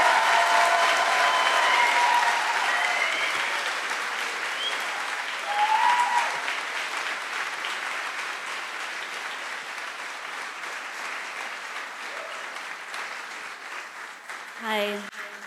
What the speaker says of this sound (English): let's give a round of applause for all of the MVA organizations